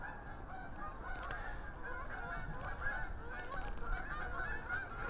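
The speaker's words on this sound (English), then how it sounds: "We've got a massive herd of Canadian geese flying over." A large flock of Canada geese flying over a fishing lake, honking continuously in a dense, overlapping chorus that sounds moderately distant and faint, with no talking.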